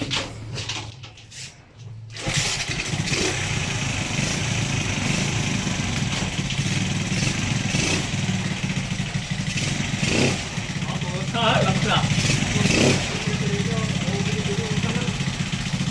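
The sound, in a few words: TMX motorcycle kick-started, engine running with new carburetor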